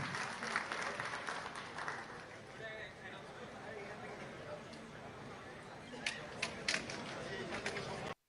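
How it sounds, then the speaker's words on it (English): An audience at a business summit applauds with steady, sustained clapping that fills the hall, with a few sharper claps standing out toward the end before it cuts off. "A big round of applause for all of them"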